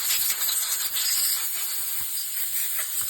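Compressed air blasts onto a freshly cleaned small engine carburetor, a loud steady hiss lasting a few seconds, close and with slight surges.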